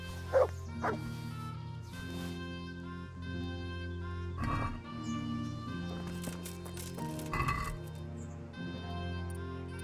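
A dog in the medieval game Kingdom Come: Deliverance barks a few times amid horse hooves clip-clopping, over sustained background music, with sharp isolated barks near the start and bursts around the middle.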